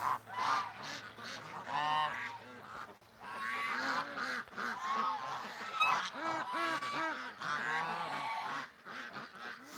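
A flock of ducks honks and quacks loudly and continuously nearby, overlapping calls with brief pauses between bursts and no talk.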